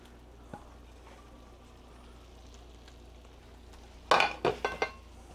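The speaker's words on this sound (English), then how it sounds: "now you're going to go ahead and put your scallops into this sauce." Scallops dropped into a thick sage cream sauce in a pan, a low simmering hiss followed by a few close, sharp splats and clinks as they go in near the end.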